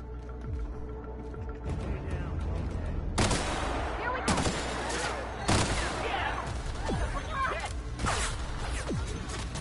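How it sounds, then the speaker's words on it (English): Enemies shoot in The Outer Worlds video game. Loud gunshots crack in scattered bursts and volleys, some in rapid runs like automatic fire, over a busy battle din. "Not really sure what was shooting me there"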